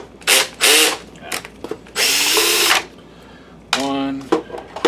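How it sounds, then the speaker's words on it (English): A power drill unscrews screws from an Optoma HD26 projector during a color wheel repair, giving several close, loud whirring bursts of varied length separated by short pauses, with someone talking between them. "Let's get these screws out."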